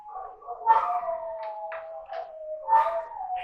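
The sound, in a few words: dogs howling at fire station sirens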